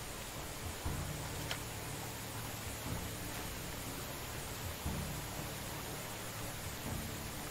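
Heavy rain falls in the medieval survival game Medieval Dynasty, a constant broad hiss with low rumbling swells recurring every couple of seconds beneath it.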